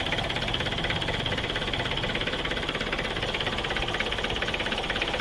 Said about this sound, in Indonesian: Untuk suaranya bagaimana mesin ini? Ya, bisa didengarkan dulu.